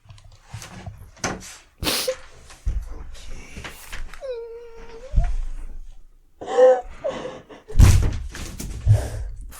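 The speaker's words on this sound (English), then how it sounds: "You just knocked the mic over." A microphone gets knocked over during a podcast recording, giving loud thumps and clattering bangs near the mic, with people talking and a brief whiny tonal sound in between.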